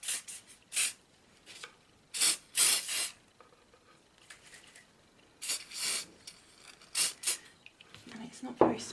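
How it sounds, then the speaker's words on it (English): Short bursts of Spray and Sparkle glitter spray hiss in quick clusters, close by, with quiet pauses between them. "I'm just going to spray that on to my little heart"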